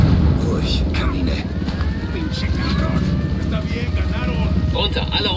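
A helicopter in Ghost Recon Wildlands keeps up a steady rotor drone and engine roar throughout, while people talk in German over it.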